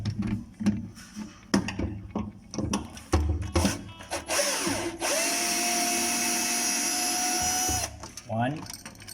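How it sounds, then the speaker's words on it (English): A power screwdriver removes a screw from a Whirlpool electric cooker hood, whirring steadily for about three seconds between scattered clicks and handling knocks, with a short second burst near the end. "let's take out this screw now"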